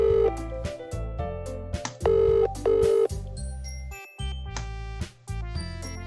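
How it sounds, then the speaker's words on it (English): Phone dialing tones in a Doki Doki Literature Club mod visual novel, a run of short steady beeps and pauses mixed with chiming game music, clear and moderately loud. "That was a fast dial tone."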